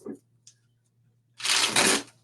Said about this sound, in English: He's been shuffling that same deck the whole time.